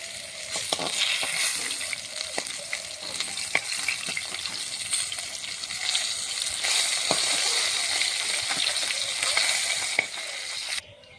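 Rohu fish fries in hot oil in a wok, a continuous crackling sizzle with frequent sharp pops and occasional stirring scrapes, loud and close for the whole stretch.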